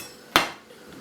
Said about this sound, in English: I'm going to work on chopping my onions right now.